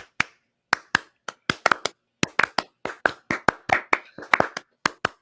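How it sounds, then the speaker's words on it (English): Sharp hand claps in a loose, uneven run of about twenty strokes over five seconds, close and distinct, some landing in quick pairs, given as a Clipper clap by a basketball fan on a live sports show. "the Clipper clap will make its appearance"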